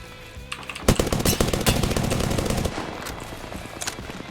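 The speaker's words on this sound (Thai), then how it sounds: "ยิงกันอยู่" Gunfire in the Apex Legends video game, a rapid automatic burst of loud close shots lasting about two seconds, then scattered single shots and a short final burst.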